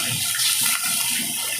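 Water poured into a cooking pan over ginger-garlic paste, salt and turmeric, a short continuous splashing gush close by with no voices.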